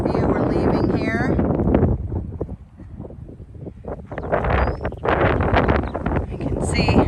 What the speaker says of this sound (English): We're gonna let the wind blow while we look at the trail.